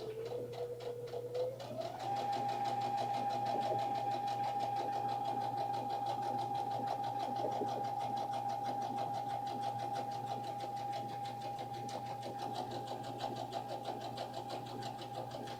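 Home sewing machine stitching child-size lounge pants fabric, a steady close mechanical whirr that rises in pitch early and then holds an even running drone with no talk.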